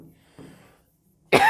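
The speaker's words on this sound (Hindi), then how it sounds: "खांसी हो रखी है थोड़ी सी" One sharp, close cough bursts out near the end after a stretch of near silence with faint breathing.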